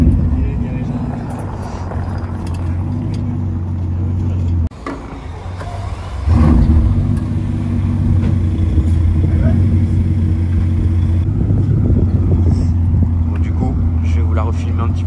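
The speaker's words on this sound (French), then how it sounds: "là elle redescend du camion" A Bugatti Chiron Pur Sport rolls down off a transport truck, its engine a steady loud low rumble that drops briefly and then returns stronger, with ambient street noise around it.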